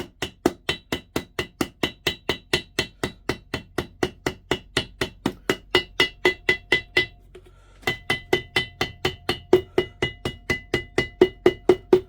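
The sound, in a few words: hammering with a small hammer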